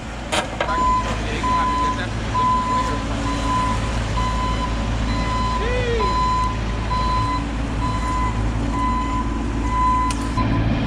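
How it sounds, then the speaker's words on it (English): Steady backup beeps repeat at an even pace over the low rumble of an idling truck, loud and close, with no one speaking. "You want him to back the truck up some more?"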